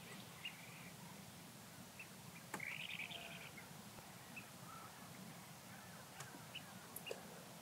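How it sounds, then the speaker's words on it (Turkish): Shorebirds such as plovers and sandpipers calling along a shoreline, scattered faint chirps and short trills at a distance over a quiet, breezy background. "Bunların hepsi cılıbıt mı? Yok, kum kuşları da var."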